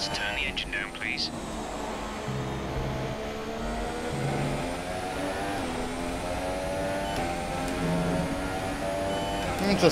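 Formula 1 race car engine in F1 2017, a Haas car at the USA Grand Prix, droning steadily with shifting revving harmonics throughout, while a voice talks over it.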